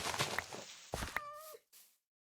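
A Minecraft cat meows once, a short clear mew near the middle, amid soft game sounds and footstep-like noises, then silence.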